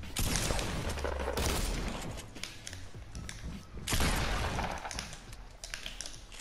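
Rapid bursts of gunfire from an enemy player in Fortnite, dense crackling volleys in two main waves with mechanical clicks and keyboard tapping in between.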